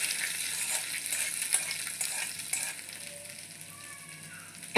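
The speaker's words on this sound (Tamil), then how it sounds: "இப்போ நம்ம எடுத்து வச்சுருந்த தாளிப்பை சட்னியில் அப்படியே மாற்றிக்கலாம்." Hot tempering poured into coconut chutney gives a steady close sizzle with a few crackles and soft stirring scrapes, fading slightly toward the end.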